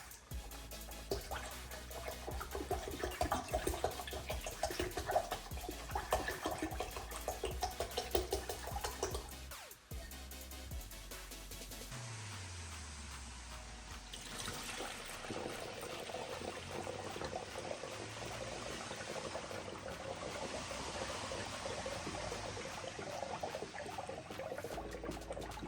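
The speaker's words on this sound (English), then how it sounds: "Now I'm gonna add 1 liter, exactly 1 liter of this new coolant" Concentrated engine coolant pours into the radiator of a Honda Civic or Accord during a coolant flush, a faint continuous splashing trickle that shifts midway to a steadier gurgling flow, no talk.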